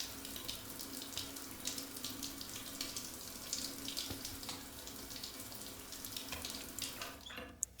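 A shower runs in the Stationeers video game, a continuous, steady hiss of spraying water for several seconds with no talk over it.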